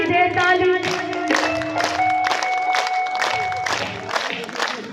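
An audience at a devotional bhajan gathering at a Mahakali temple claps hands in steady rhythmic bursts while singing voices and music carry on over the crowd.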